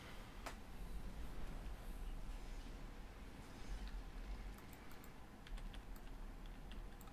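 A computer keyboard typed on while playing a Star Trek video game, soft irregular key clicks over a low steady background hum, faint and with no talk.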